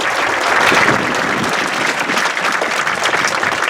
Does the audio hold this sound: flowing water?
no